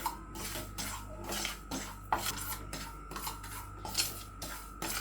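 Cumin seeds being dry-roasted in a pan make quiet, steady scraping and rasping strokes of a utensil against the metal, repeating at an irregular rhythm with small clinks.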